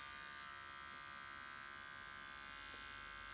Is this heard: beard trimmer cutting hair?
yes